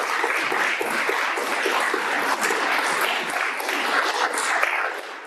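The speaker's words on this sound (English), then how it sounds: "Round of applause." An audience gives a steady round of applause, dense, even clapping from many hands sustained for several seconds at a fairly loud level.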